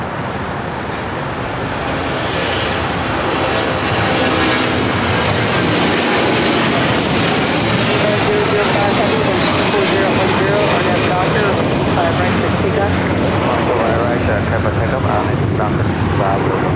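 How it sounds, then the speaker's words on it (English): Airbus A380 jet airliner taxiing at LAX, a loud continuous engine roar that swells over the first few seconds and then holds steady at close range. "The A380 is now taxiing."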